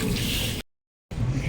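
Water is poured to wash a leg, a steady splashing rush that cuts out for half a second and then starts again, loud and close.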